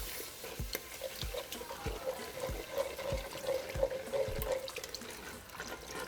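Water runs steadily into a cooking pot holding onions for zuppa toscana soup and is stirred in, with a continuous close pouring and splashing sound that has soft scrapes and clinks scattered through it.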